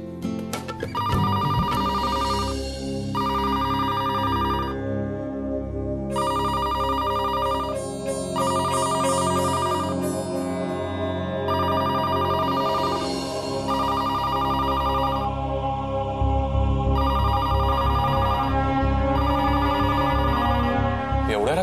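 A telephone rings at night in repeated, evenly spaced bursts of bright electronic trilling, layered over sustained dramatic background music.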